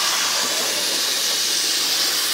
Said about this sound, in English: I'm gonna get the water in the pan, just regular old water from the tap.